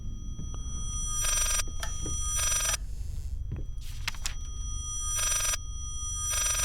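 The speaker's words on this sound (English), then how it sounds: "Stupid phone." Telephone in the horror game Layers of Fear rings in repeated loud bursts, about four rings with short pauses between them, over a low droning ambient rumble and scattered thuds.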